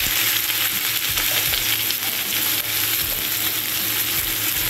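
Chopped onions fry in hot oil with cumin seeds in a pan, giving a loud, continuous close-up sizzle and crackle with faint stirring scrapes, and no voices.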